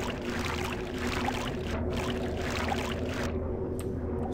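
Water gushing through a sewer in the Vampire the Masquerade Bloodlines video game: a continuous, loud rushing flow with a low steady hum beneath, cutting briefly in places, with no talking.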